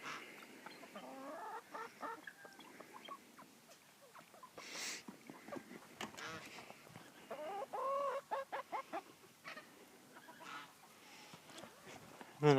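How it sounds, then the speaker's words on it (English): Chickens in a backyard coop kept alongside pheasants cluck and murmur repeatedly at close range. Irregular short calls rise into a busier run of rhythmic clucks near the end, with no speech. "And some more chickens."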